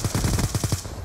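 Rapid automatic gunfire from Call of Duty: Black Ops 2 rattles in a tight burst of about eight evenly spaced shots over roughly a second, loud and close with no talking.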